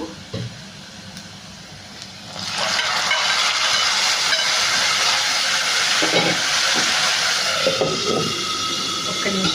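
Tomato and green chilli chutney tipped into a hot tempering pan sets off a loud, steady sizzle that jumps up after a quiet start and hisses on continuously to the end.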